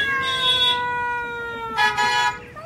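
A cat gives a long, drawn-out, tonal meow followed after a pause by a second, louder wailing meow, both close and clear indoors with no talk over them.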